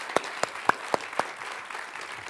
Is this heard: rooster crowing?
no